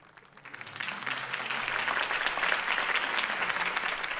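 Crowd applause at a political campaign speech in the video game Batman: The Telltale Series, a dense, steady clapping that swells after a brief quiet start and holds loud through to the end.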